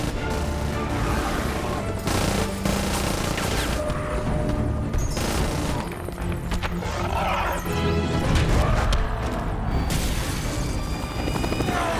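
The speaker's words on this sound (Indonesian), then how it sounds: "Ross menyuruh anak buahnya menembak Abomination" Gunfire erupts during a helicopter battle with the Abomination in The Incredible Hulk: dense, loud bursts of shots mixed with crashes, booms and rotor noise, continuous throughout with no speech.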